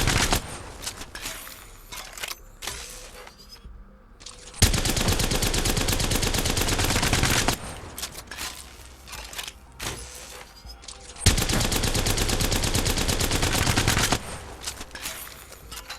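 Havoc rifle fire in the Apex Legends video game rattles in rapid full-auto bursts, two long sustained strings with shorter shots and clatter between them, loud and close.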